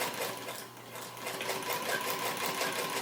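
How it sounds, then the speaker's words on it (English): A sewing machine stitches steadily up along an invisible zipper near its teeth toward the top, a continuous close whirring hum with no pauses and no talk. "And I'm going to sew right on up"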